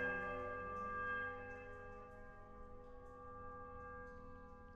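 A church bell in the Pillars of Eternity game gives a single soft, sustained strike whose tone rings out and slowly fades, heard alone and fairly quiet.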